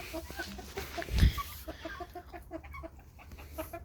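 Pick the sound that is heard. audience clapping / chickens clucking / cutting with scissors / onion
chickens clucking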